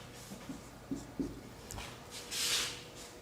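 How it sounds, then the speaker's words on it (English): Letters being written on a board produce faint, short scratchy strokes in an irregular rhythm, ending with a slightly longer rubbing stroke, with no voices. "Suppose that I write here some alphabet."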